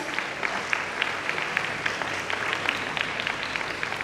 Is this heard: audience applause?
yes